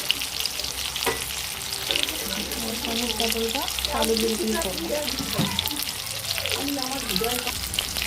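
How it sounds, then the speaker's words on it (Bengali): Tomatoes and black cumin frying in hot oil for a potato and pointed gourd curry, a steady close sizzle with stirring scrapes throughout, under a voice speaking. "টমেটোটা ভাজা ভাজা হচ্ছে"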